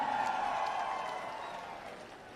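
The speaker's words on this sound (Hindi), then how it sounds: "जोरदार तालियों से आप इनका अभिनंदन करें।" An audience at a political alliance rally applauds as guests are honoured. A soft, even wash of crowd clapping with a steady tonal hum behind it fades slowly.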